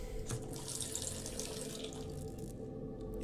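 Steady running water from a tap in a video game, a continuous soft rush and splash that fills the whole stretch at moderate loudness with no voices.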